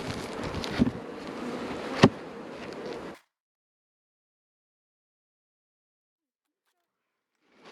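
Honeybees buzz loudly and close at a spring beehive for about three seconds, with a couple of sharp knocks, before the sound cuts to silence.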